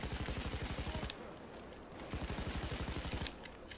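Rapid automatic gunfire with incendiary rounds in the Payday 2 video game, loud, close bursts of evenly spaced shots, pausing briefly before another sustained burst, then stopping.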